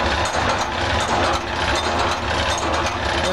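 Rhodes Kook-E-King automatic cookie machine running with its cover off, motor, pulleys and belt producing a steady close mechanical whir with a dense ratcheting clatter, no voices.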